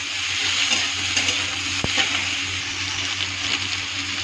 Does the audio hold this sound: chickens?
no